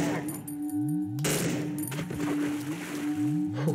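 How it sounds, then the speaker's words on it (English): In the horror video game Cry of Fear, gunshots fire in a sewer, with a sharp burst standing out over looping tonal game ambience and low rumbling background sound. "Ooh, blind shots."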